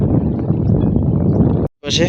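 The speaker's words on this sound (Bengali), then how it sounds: "নদীতে আজকে প্রচণ্ড বাতাস এবং প্রচণ্ড স্রোত" Strong wind by a fast-flowing river buffets the microphone in a steady roar, cutting out abruptly near the end before a voice briefly begins.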